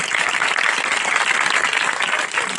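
Loud, sustained applause from a church congregation at a tent meeting in Pakistan, many hands clapping together at close range in a dense, even roar for the whole stretch.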